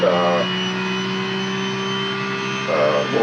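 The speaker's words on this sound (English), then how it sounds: "this is a Mazda AutoZam. It's a mid-engine car" Mazda AutoZam mid-engine car in the Gran Turismo 5 racing game, its engine holding a steady high drone with whining harmonics and brief revs at the start and end, while someone talks over it.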